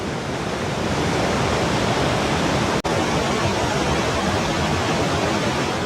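Roaring waterfall in the Canadian Rockies near Banff, a dense, steady, loud rush of falling water that fills the whole scene without any break.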